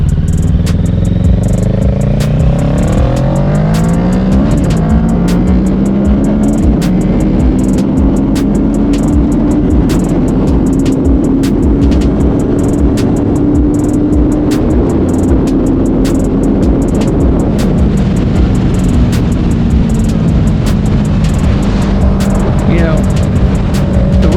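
A 2020 Kawasaki Ninja 650 motorcycle pulls hard in sixth gear, its engine note rising steadily and droning loud and close with heavy wind rush throughout, no talk over it.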